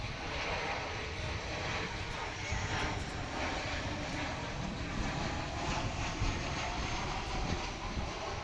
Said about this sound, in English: As we watch the arrival from Santa Ana, California of American Flight 2674